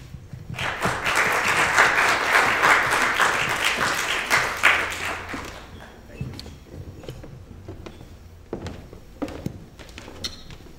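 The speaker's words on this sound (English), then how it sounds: "So just if you can just applaud him." An audience at a business group seminar applauds a speaker, with dense, loud clapping that builds over several seconds and then fades to scattered claps, thumps and footsteps in the hall.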